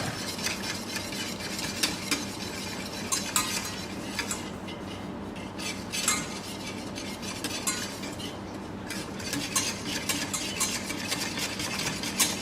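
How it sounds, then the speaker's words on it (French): Continuous scraping and stirring of a thickening lemon tart filling in a saucepan, with a faint sizzle underneath and a utensil clinking against metal now and then. "je ne vais pas cesser de remuer"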